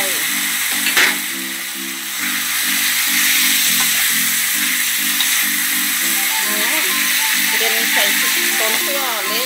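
Sliced green and red chilies drop into a hot pan and fry with a steady loud sizzle and hiss, while background music plays and a voice talks over it.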